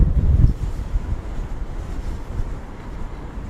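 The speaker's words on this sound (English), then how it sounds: "But that is what the wind sounds like." Strong wind gusts across downtown Toronto on a cold evening, a loud low roar buffeting the microphone, heaviest at the start and then a steady rumbling rush throughout.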